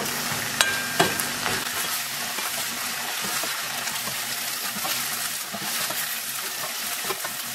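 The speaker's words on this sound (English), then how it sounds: "And about a tablespoon and a half of steak seasoning. Give that a quick stir" Browned ground beef with steak seasoning sizzling in a pan as a utensil stirs it, a few sharp scrapes and taps early on over a constant close frying hiss, with no voices.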